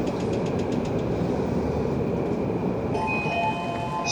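A Yamanote Line train runs through Tokyo with a steady loud rumble of wheels on rail and car noise heard from inside. Faint clicks sound early on, and a high tonal whine rises near the end.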